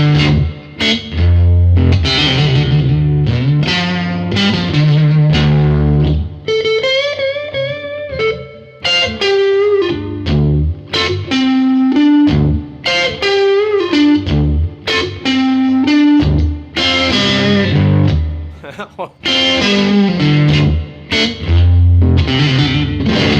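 Electric guitar through a Line 6 Helix Hot Cousin amp model modeled on a Fender Tweed Bassman, with added drive and reverb, plays chords and single-note runs; loud, gritty and continuous, with ringing sustained notes and no talking.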